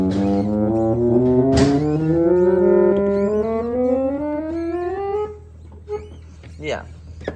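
Farrand and Votey reed organ with the viola stop drawn, sustained chords swelling and shifting upward for about five seconds, loud and close, then cutting off into quiet room noise with faint bumps.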